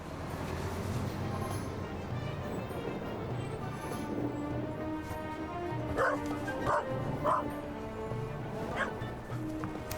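A dog in The Raven video game barks and yips in a few short bursts, mid-level, over a continuous bed of game background sound.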